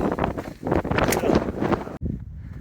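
Strong wind gusting across an exposed mountain ridge on a hiking trail, a loud, continuous broadband roar buffeting the microphone that suddenly cuts off near the end, with no talking.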